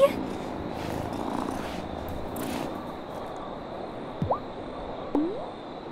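A cat purrs in the Wylde Flowers video game, a soft continuous rumble under game ambience with a couple of brief chirpy sounds near the end.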